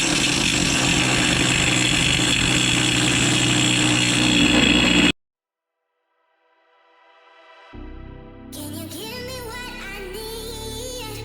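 A power tool cutting steel for a modified snow plow wing, heard first as a loud, steady grinding roar for about five seconds, then a sudden cutoff into quiet before another motor winds up and runs at a lower, uneven pitch.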